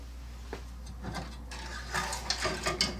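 Screws are driven in by hand on a Star Wars Premium pinball machine, Spike 2 hardware: quiet ratcheting clicks and small scraping taps in short irregular bursts, fairly close and faint.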